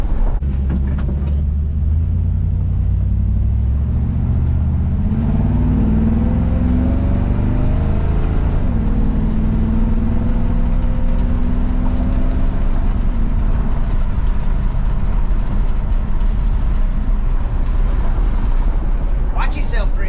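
A squarebody truck with a 305 engine drives slowly, its low steady engine rumble filling the clip with gentle swells in pitch; people talk over it throughout.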